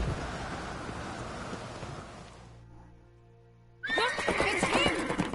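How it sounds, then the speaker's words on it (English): A horse whinnies in The Witcher 3, a loud, close neigh breaking out after a quiet gap, following a stretch of rain-like hiss and ambient game sound. "Grab a horse, we'll chase him down."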